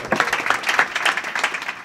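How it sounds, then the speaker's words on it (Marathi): Audience at a Marathi kirtan clapping loudly together, a dense, continuous burst of many hands with an even, busy rhythm throughout. "टाळी वाजवा एक बार जोऱ्यात"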